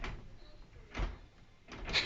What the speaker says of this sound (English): he's just going to show us how to open the door